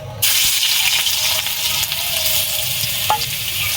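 Hot oil sizzles loudly and steadily after garlic drops into the pan with fried chillies, a dense crackling hiss with an occasional faint clink.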